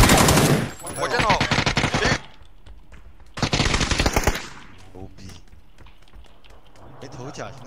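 A shooter video game plays rapid automatic gunfire in two loud, clattering bursts of tightly spaced shots separated by a short gap. Players talk excitedly over and between the volleys.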